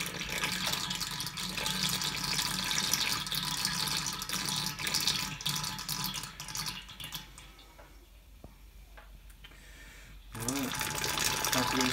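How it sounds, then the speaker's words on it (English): Tap water runs and splashes while brewing equipment is rinsed after a brew day, a loud steady gush that stops for a few seconds and then starts again. "A good wash and good rinse,"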